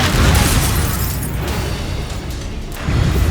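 A Confringo fire spell bursts in Hogwarts Legacy, a loud, broad roaring blast that fills the moment and swells again near the end, with no talk.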